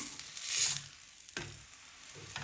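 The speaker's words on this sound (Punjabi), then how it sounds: "ਦੋਨਾਂ ਸਾਈਡਾਂ ਪਰ ਘਿਓ ਚੰਗੀ ਤਰ੍ਹਾਂ ਲਗਾ ਦਿੱਤਾ ਪਰੌਂਠੇ ਨੂੰ ਆਪਾਂ ਦੋਨਾਂ ਸਾਈਡਾਂ ਤੋਂ ਚੰਗੀ ਤਰ੍ਹਾਂ ਸੇਕ ਕੇ ਤਿਆਰ ਕਰ ਲਵਾਂਗੇ" An aloo methi paratha brushed with ghee roasts on a hot griddle, sending up a close, bright sizzle that swells and fades, with a couple of sharp scraping touches from turning or pressing.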